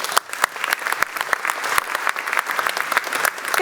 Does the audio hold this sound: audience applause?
yes